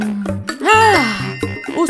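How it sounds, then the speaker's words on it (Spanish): A fake doorbell effect in a cartoon, a bright chiming ding-dong tone sliding up and down, loud and close, mixed with short tonal blips and no talk. "Usaré un sonido falso de timbre."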